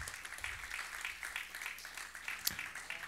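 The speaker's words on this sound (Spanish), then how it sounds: "Dale palmas al Señor." A church congregation claps along during a sermon, a steady soft patter of many hands with faint voices mixed in under a low room murmur.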